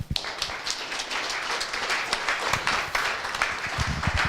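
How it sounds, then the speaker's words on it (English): Audience applause at a short law talk, a steady wash of many hands clapping at moderate level with a few sharper claps standing out, no talking over it. "I just want a louder round of applause for that one, please."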